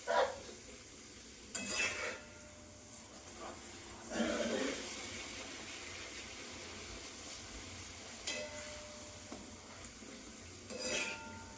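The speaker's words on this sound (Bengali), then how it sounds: "চলো বন্ধুরা লুচি কটা ভেজে ফেলি।" Luchi puffed flatbread deep-frying in a pan of oil: a low, faint bubbling sizzle in the background, broken by a few louder clinks and scrapes of a utensil against the pan.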